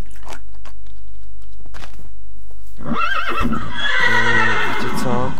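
A horse in a modded Minecraft game neighs loudly in a long, wavering whinny near the end, after a few seconds of quieter game sounds and faint clicks.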